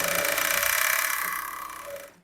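A sewing machine runs a safety stitch along a blouse, a fast even mechanical whir at moderate volume that carries steadily and then fades out at the end.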